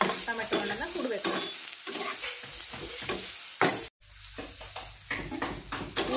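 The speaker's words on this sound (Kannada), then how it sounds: "ಎಲ್ಲೆಲ್ಲಿ ಟೊಮೆಟೊ ಹಣ್ಣು ಸುಡ್ತಿರಲ್ವೋ ಅಲ್ಲೆಲ್ಲ ಚಂದತ್ನಾಗಿ ತಿರುವಿ ಟೊಮೆಟೊ ಹಣ್ಣನ್ನು ಸುಡ್ಬೇಕು" Tomatoes are turned while roasting for chutney, making a steady sizzle with repeated stirring and scraping strokes. A brief near-silent gap comes partway through, then the sizzling and stirring resume.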